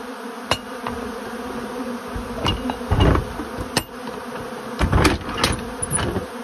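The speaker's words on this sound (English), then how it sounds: "So tonight I will release the bees." Honeybees buzzing steadily around a beekeeping setup during robbing season, a dense continuous hum with sharp louder swells as individual bees fly close past, no voices.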